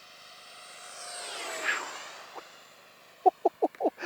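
RC model jet sweeping overhead on a calm day with a slight breeze, a thin whine that rises and falls as it passes, with several sharp clicks or knocks close by near the end.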